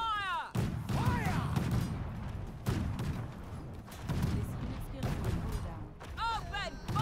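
Musket volleys from Falconetti Gunners in the Conqueror's Blade video game, several heavy crackling bursts of massed shots spread across a noisy battlefield, with shouted commands heard between the firing.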